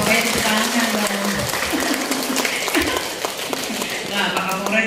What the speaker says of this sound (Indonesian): Ayo dong bapak-bapaknya tepuk tangan kan dong.